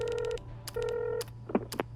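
Repeated ringback tones of a telephone call in the video game The Editor, several evenly spaced rings, clear and alone with a few short clicks near the end.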